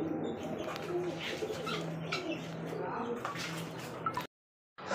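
Pigeons at a Bangladeshi pigeon market coo in soft repeated low calls amid steady background noise and murmuring voices, then the sound cuts out briefly near the end.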